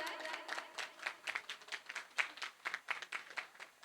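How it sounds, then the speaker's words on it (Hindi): A theatre audience claps after a play during a felicitation on stage, a steady patter of many hands with uneven bursts, moderately close and lively, with no talking over it. "प्लीज जोरदार तालियां हो जाएं।"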